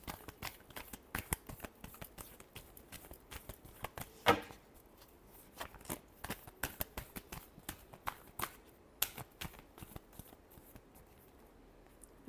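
Tarot cards shuffled by hand at close range, a quick run of crisp papery riffles and soft clicks in uneven bursts, with no talking.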